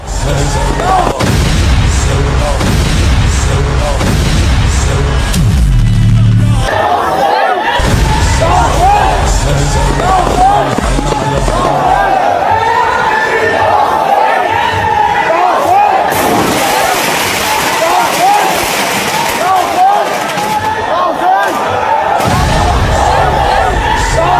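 Loud, dense crowd noise at a Muharram gathering after a van blast, continuous shouting and commotion with booming bursts, a voice talking over it.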